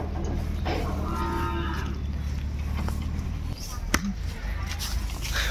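Sahiwal bull calves low in a cattle pen, with a drawn-out moo near the start against steady background noise, while people talk and a sharp knock sounds near the end.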